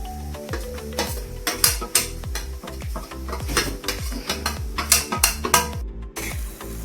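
Garlic and crushed ginger fry in a pan while a utensil stirs and scrapes repeatedly against the metal, giving a busy rhythmic clatter over a steady close sizzle with no talking.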